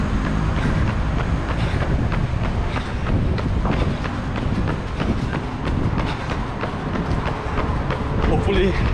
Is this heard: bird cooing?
no